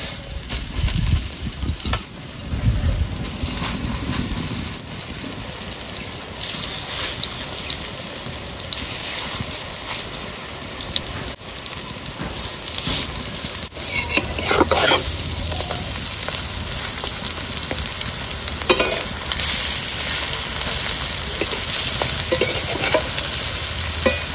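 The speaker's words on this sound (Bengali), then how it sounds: "বড়াগুলো বেশ আস্তে আস্তে জাল দিয়ে ভেজে নিয়েছি" Helencha (hinche) greens fritters fry slowly in oil over low heat, a steady close sizzle with stirring clatter that grows denser partway through, no voices.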